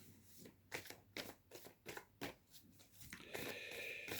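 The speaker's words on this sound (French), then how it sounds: "Donc je vais retirer quelques cartes." Oracle cards being shuffled and drawn from a deck, a series of soft papery riffles and flicks in a loose rhythm, close and quiet, then a brief rustle at the end.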